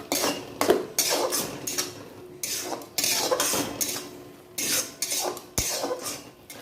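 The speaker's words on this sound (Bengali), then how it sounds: "রান্নাটা কষিয়ে যেতে হবে" Curry with yogurt, cashews and pistachios being stirred and sautéed in a pan, heard as repeated close scraping strokes of a utensil against the metal with brief pauses between them, no voices.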